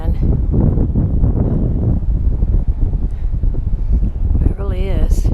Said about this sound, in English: Try to block the wind.